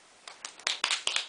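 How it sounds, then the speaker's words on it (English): A small group gives a brief round of applause of about seven sharp, uneven claps over little more than a second, close and fairly loud with no talking. "Everybody clap."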